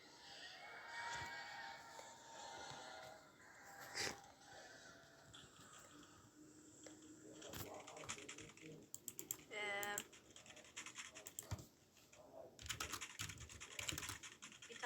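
Computer keyboard keys clatter in quick bursts and scattered taps while a PC fighting game with WASD controls is played, fairly close and moderately loud, with game sounds mixed in.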